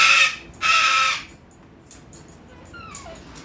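A pet parrot gives two loud, harsh squawks in quick succession, followed by fainter chirps and a short rising call in a quiet room.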